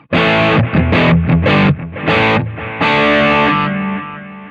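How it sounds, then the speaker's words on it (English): An electric guitar runs through an MXR Distortion Plus model on a Valeton GP-50 multi-effects unit, playing loud, saturated distorted chords and short riffs with sustained ringing notes that fade at the end. "Fast Face plus Distortion, so the MXR Distortion Plus"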